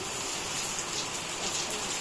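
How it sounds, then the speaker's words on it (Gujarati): Heavy rain falls outdoors as a steady, even wash of drops on surfaces, fairly close and moderately loud, continuous without breaks. "આ સાઈડ ફૂલ વરસાદ આવી ગયો છે"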